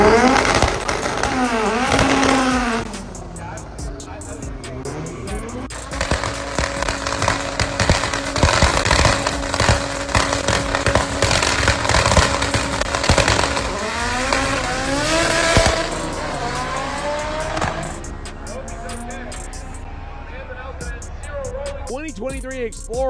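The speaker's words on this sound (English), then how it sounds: "2023 Explorer against a 1998 Honda" A 2023 Ford Explorer racing a 1998 Honda at the FL2K event gives loud, sustained engine roars with rising and falling pitch as the cars accelerate and shift, heard up close, with talk over the noise.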